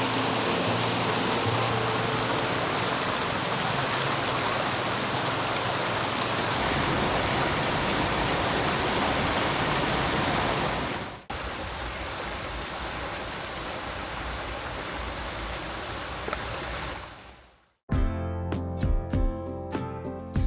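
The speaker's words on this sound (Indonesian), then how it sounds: "Sungai yang mengalir di area wisata ini lumayan lebar dan memiliki debit air yang besar juga" Loud, steady rush of a wide, high-volume river flowing fast through forest at Kareumbi, Cicalengka, near Bandung; a broad continuous roar up close, breaking off near the end into a few sharp clicks and knocks.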